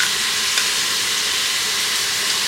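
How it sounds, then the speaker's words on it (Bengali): Whole spices such as cinnamon, green cardamom and cloves frying with cashews in a pressure cooker pot, giving a steady, close, bright sizzle and hiss with no talking. "সব একসাথে ভেজে নিচ্ছি।"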